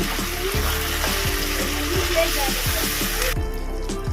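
Ground cumin, Kashmiri chili powder, turmeric and slit green chilies frying in oil in a pan for a Bengali chicken curry with potatoes, a steady close sizzle with rhythmic stirring scrapes throughout.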